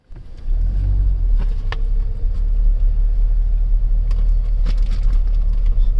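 A car rolling along a forest road in India, a steady close low rumble of engine and tyres from inside the cabin, with a few soft knocks and clicks over the drone.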